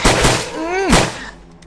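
Gunfire in the zombie survival video game Survive the Nights, two sharp shots at the start and another near one second, with a rising voice-like tone between.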